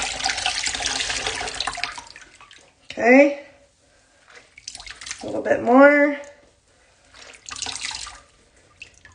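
Water sloshes and pours steadily from wavy hair into a bowl, then stops and returns in short splashes and drips, with a person speaking briefly in between.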